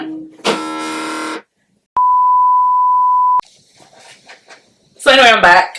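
A phone gives a steady electronic beep lasting over a second, preceded by a harsh buzzing tone and followed by faint murmuring, then a short loud burst of voice at the end.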